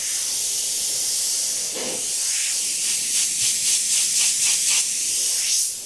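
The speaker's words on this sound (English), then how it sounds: "spray out until it becomes completely red" An airbrush sprays red paint in a steady hiss, then gives a run of short, evenly spaced bursts close by, with no voices.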